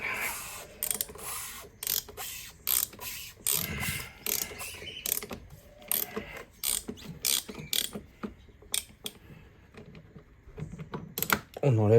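A ratchet wrench with a 24 mm socket loosens a bolt on a fuel filter, giving bursts of rapid clicking pawl strokes separated by short pauses, close and crisp, with brief speech in places.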